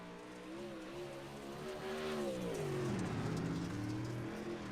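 Modified touring race car lapping Cedar Lake Speedway in a racing video game, its engine droning steadily and rising in pitch as it accelerates, loud and continuous with no voices.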